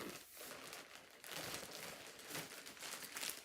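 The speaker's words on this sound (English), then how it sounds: "So, in the plastic bag, and let's get it open." A plastic bag crinkles and rustles steadily as it is opened to unbox a new Purrini product, close and fairly quiet, with no voices.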